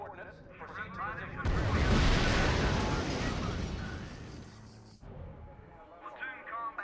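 Artillery and gunfire from the real-time strategy game R.U.S.E.: a heavy, rumbling barrage of blasts swells up loud and close for about three and a half seconds, with brief voices before and after it.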